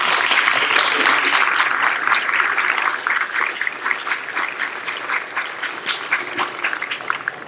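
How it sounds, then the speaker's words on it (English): Applause from an audience at a school National Honor Society induction ceremony, a dense sustained clatter of many hands clapping that stays loud throughout and eases slightly toward the end. "Let's have a round of applause for this year's."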